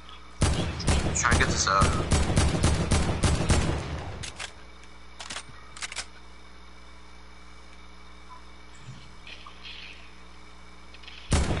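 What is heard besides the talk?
gunfire in a video game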